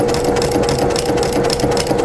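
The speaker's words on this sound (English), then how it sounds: "I'm going to go slow and stitch on top of the stitching that I just did" A sewing machine runs steadily as it slowly stitches over an earlier seam on a baby comfort blanket, a close, continuous mechanical hum with a fast, even whirring rhythm throughout.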